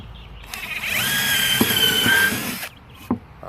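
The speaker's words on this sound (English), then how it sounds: "you can go ahead and drill your hole first" A power drill whines for about two seconds as it bores a hole through a wooden board for a chicken snack feeder, starting and stopping with a few knocks and clicks around it.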